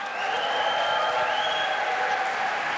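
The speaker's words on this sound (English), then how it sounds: "as they come out into the court, I want you to cheer" Arena crowd cheers and applauds as a basketball starting lineup takes the court, a dense, steady roar of clapping and shouting with whistles on top, sustained loud throughout.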